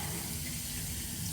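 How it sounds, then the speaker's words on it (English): Running tap water pours steadily to warm a shaving brush, a close, even hiss and splash that continues unbroken with no talking. "let's go ahead and get my brush warmed up here with some nice water."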